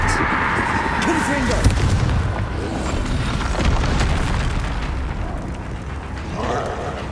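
Repeated Confringo blasting-curse explosions in Hogwarts Legacy inside the Feldcroft catacomb, booming bursts layered over continuous combat noise with a voice calling out spells.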